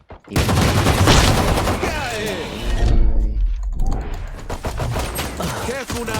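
Rapid gunfire fills a Valorant match played as Phoenix, with loud overlapping bursts of shots and sharp impacts, a brief lull, then more scattered firing, while players talk excitedly over the action throughout.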